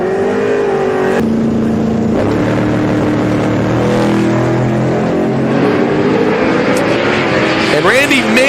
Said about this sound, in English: And Randy may be making a motor pass here.